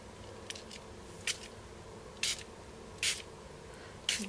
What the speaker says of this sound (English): I'm just going to give it just a light mist this time.